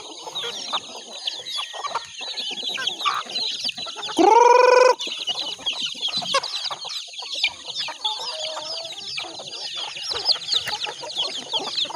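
Hens and chicks cluck and peep steadily nearby among farmyard chickens, with a brief loud squawk midway through.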